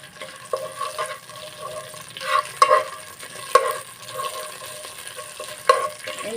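Bay leaves, dried red chilies and cinnamon sticks fry in hot oil for a chickpea bhuna as a spoon stirs them: a steady close sizzle broken by several sharp scrapes and clinks against the pan, with no talking.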